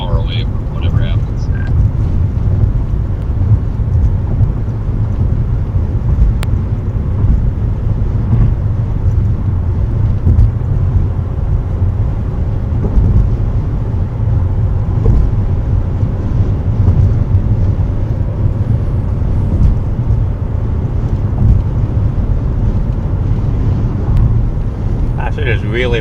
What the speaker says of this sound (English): It is really windy at the top of this bridge.